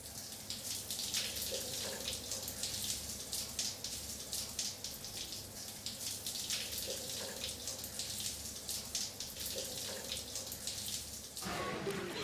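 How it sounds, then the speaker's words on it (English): A cold shower running after a steam room, a continuous hiss and splatter of falling water, steady and fairly close, with a brief change in the flow near the end and no talking. "What's going to happen when he steps into a cold shower?"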